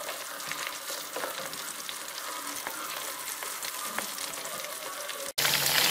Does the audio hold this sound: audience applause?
no